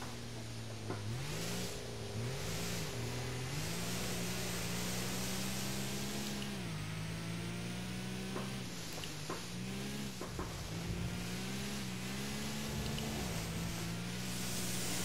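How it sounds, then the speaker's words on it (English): Car engine in Gran Turismo 4 on a wet Tsukuba circuit, revving up and down through a sustained drift, droning pitch rising and falling over steady tyre and road noise, loud and continuous. "Who says you can't drift in GT4?"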